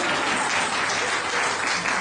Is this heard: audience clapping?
yes